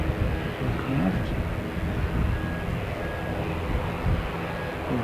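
An aircraft comes in to land on the main runway of an airfield, its engine giving a continuous broad rumble. A voice talks over the noise.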